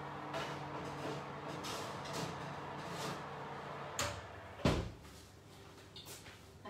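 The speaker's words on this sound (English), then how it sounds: "I'm gonna grab the savoury granola out of the oven" An oven door swings open in a kitchen with a soft creak and a solid thud, followed by a faint clatter while savoury vegan granola is taken out.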